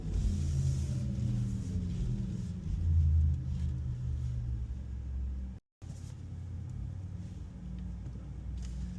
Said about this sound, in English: It's both the electric motor and the engineered sound.